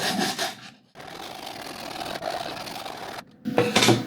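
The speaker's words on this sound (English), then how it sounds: "I'm just gonna sand it a little bit before applying the glue." A 3D-printed drone part being sanded by hand before gluing, giving scratchy rasping strokes in close bursts separated by brief pauses, with a louder rougher burst at the end.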